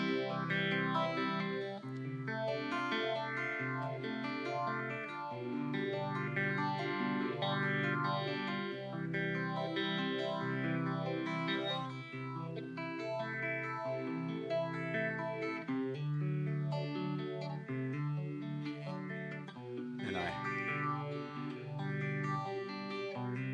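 Electric guitar plays a Bach prelude through a phaser- or univibe-style modulation effect: a continuous flowing stream of arpeggiated notes with a swirling, wavering tone. It sounds steady and moderately loud, with no talking.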